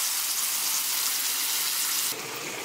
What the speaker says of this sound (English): And I'm gonna saute those and Kerrygold with salt.